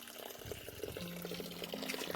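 Spring water runs from a natural village stream outlet, a soft continuous trickle and splash with small gurgling drips, faint and close, with no talk over it.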